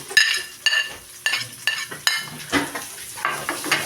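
A utensil stirs garlic and onion sautéing in a pan, giving repeated scraping clinks at a steady rhythm over a soft sizzle, close and moderately loud.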